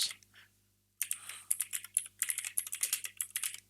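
Keys clatter on a computer keyboard as a search box is filled in, a brief tap then silence before a rapid, close, steady run of crisp keystrokes.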